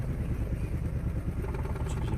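Car engine idling with a worn, tired engine mount, giving a steady low rumble with faint rhythmic clatter and vibration, fairly close and alone.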